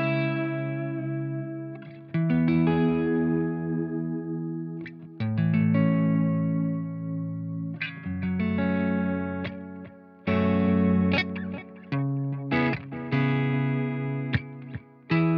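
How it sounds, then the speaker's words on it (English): Electric guitar played through a single-channel amp and a Crazy Tube Circuits Time delay pedal with tap tempo and reverb, strummed chords and single notes with repeating echoes trailing each phrase, loud and close with no talking. "It's a delay pedal with tap tempo"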